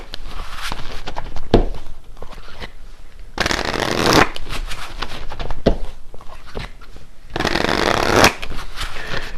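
Tarot cards being shuffled, in loud crisp riffling bursts that recur several times with quieter soft handling and shuffling between them, close to the listener.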